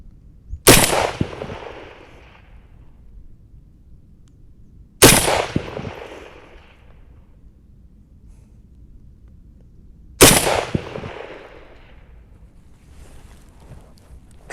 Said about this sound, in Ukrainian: Я буду намагатися стріляти в ліву мішень